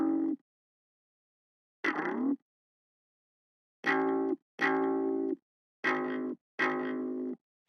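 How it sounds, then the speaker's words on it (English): A sampled bass guitar with effects plays six separate notes in an electronic music production. The notes are short, buzzy and distorted, with chorus-like wobble, and fall silent between each one. "the first thing I've got here is a sampled bass guitar"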